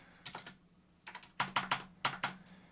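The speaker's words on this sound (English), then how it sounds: "I know my keyboard is loud. It's a gaming keyboard" Typing on a loud gaming computer keyboard: sharp, clacky keystrokes in short irregular bursts, close and crisp against a quiet background.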